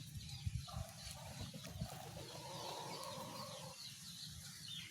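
Chickens and chicks cluck and peep softly while being fed, with light pecking and scratching thumps close by and a faint, low-level hum underneath.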